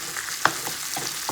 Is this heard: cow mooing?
no